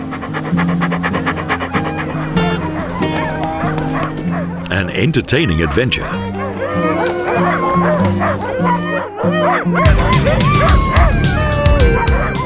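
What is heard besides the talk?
sled dogs barking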